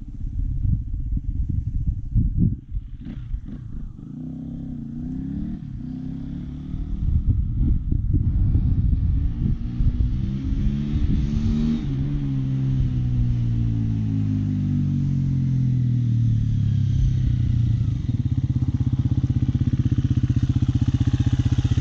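A 350 motorcycle engine roars loudly and close through a morning wheelie, revving and climbing in pitch, then holding a strong steady drone for the rest of the ride.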